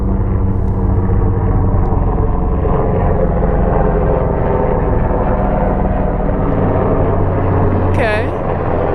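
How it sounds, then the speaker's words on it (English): A heavy, continuous rumble of helicopters passing overhead fills the whole stretch, loud and steady, with a brief voice near the end. "We have helicopters going over."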